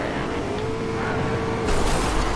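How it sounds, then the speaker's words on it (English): A race car in Fortnite roars close by, its engine droning steadily and then surging louder near the end as it closes in. "he's literally chasing me, but he's in a freaking race car"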